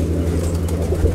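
Andhra pigeons in a loft give low, steady cooing, close and continuous, with a soft murmur of background noise throughout.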